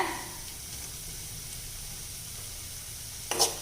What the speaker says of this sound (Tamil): தேங்காய் துருவல் சேர்த்து நல்லா இந்த மாதிரி ஒரு பெருக்கு பெரட்டி விட்டுக்கலாங்க